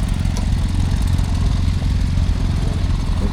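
A small David Brown tractor, badged Case, runs steadily at a spring fair in Laughton, its engine putting out a close, loud, even chugging throb with no talk over it.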